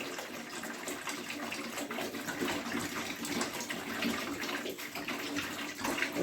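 Water running steadily from a tap into a pot while honey-soaked pastries are prepared for Ramadan, a close, continuous gushing splash with no talk.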